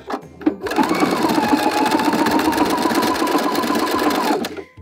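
Sewing machine running a straight stitch with binding overcast along the edge of woven fabric under a J foot, backstitching at the start; a steady close mechanical whir with rapid needle ticking for about four seconds after two brief clicks.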